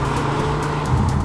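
A Jaguar F-Type coupe sports car without the V8, its engine holding a steady, fairly loud drone for a brief moment.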